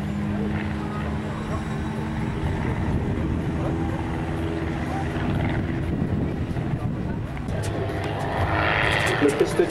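A small Christen aerobatic airplane of about 700 kg flies overhead, its engine making a continuous, fairly loud drone that rises a little toward the end.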